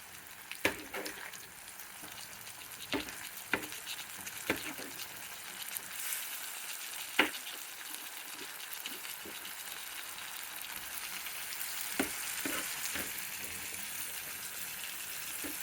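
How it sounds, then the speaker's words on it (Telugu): Two tomatoes frying in a pan for bitter gourd (kakarakaya) masala, a soft steady sizzle with occasional clinks and taps of a spoon, close and moderate in level, no talking. "బాగా వేగించుకోవాలండి"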